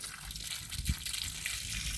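Water runs faintly from a tap outdoors, a quiet steady gush with a soft splash near the middle.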